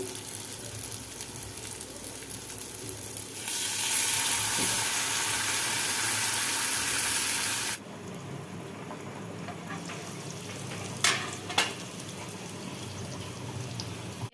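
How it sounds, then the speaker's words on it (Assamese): Potatoes frying in a covered pan, a steady muffled sizzle that swells loudly for a few seconds, then drops back to a softer crackle with a couple of sharp clicks. "এইখিনি মই ভালকৈ ঢাকোন লগাই লগাই অলপ সময় ভাজিছোঁ"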